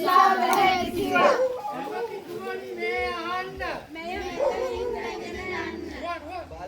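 Several dogs at a dog shelter near Midigama village in Matara howl, yelp and bark in an overlapping chorus that carries on throughout, loud and close.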